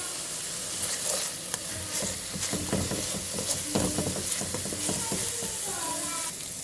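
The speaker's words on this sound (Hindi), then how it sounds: "इसके अंदर शामिल कर दिया और इसको हम हल्का सा करेंगे प्याज को सौते" Chopped onion sautéing in a tablespoon of oil in a pan, a steady close sizzle broken by repeated scraping stirs of a spoon, with no voices.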